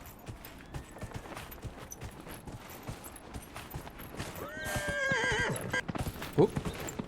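In Dragon Age Inquisition, a horse's hooves clop rhythmically before a loud, quavering whinny rises near the end, with a sharp hoof strike following.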